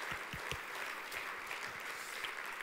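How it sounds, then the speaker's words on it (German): Steady audience applause in a church, a dense wash of many hands clapping at moderate level throughout. "lass uns mal Andreas mal richtig großen Applaus geben"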